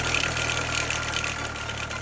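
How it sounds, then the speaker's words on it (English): A Mercedes C-Class C250 engine runs with a steady idle, its dense, continuous mechanical rattle and low hum holding constant throughout, recorded up close. "the engine was making an awful rattling noise"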